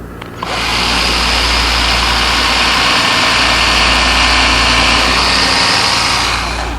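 A power drill runs steadily and close for several seconds, pre-drilling a pilot hole in oak for a nail while building a hanging cupboard, with a whining motor tone and no talk over it.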